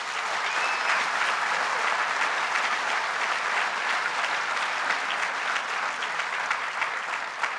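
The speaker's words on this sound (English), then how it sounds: "Please give him another round of applause." An audience at a government jobs announcement in Dunkirk applauds steadily, a broad, sustained wash of many hands clapping with no one speaking over it.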